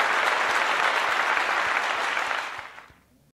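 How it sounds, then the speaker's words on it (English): An audience at a university staff and faculty awards program applauds research award recipients, a dense, steady roar of many hands that stays loud and full before fading out over the last second. "Let's give a round of applause to all of our research award recipients."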